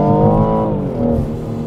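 A BMW 240i engine pulls hard under acceleration, its harmonics rising and then dipping briefly as a gear change comes through, loud and close with a steady rumbling undertone throughout.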